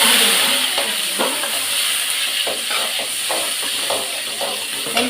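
Dried red chillies sizzle in hot oil as a tempering for a Tamil keerai kulambu, giving a steady, close hiss broken by scattered small crackles and pops throughout.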